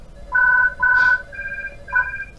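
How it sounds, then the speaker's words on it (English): A telephone rings in The Haunted Mansion game on PS2, with a pool table scene, its warbling electronic ring pulsing in short bursts, loud and close, with no talk over it. "Oh, the phone's ringing, so you know what that means."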